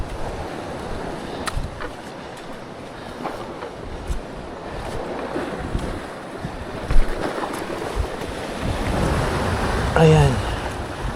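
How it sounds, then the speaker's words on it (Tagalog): Sea waves slosh and churn around a boat at sea, with wind buffeting the microphone in a continuous rough wash that swells louder near the end; the water is fairly close and no one speaks over it. "May alon pero minimal lang"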